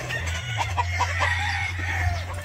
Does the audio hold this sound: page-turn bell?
no